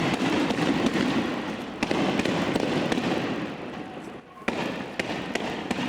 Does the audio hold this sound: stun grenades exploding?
yes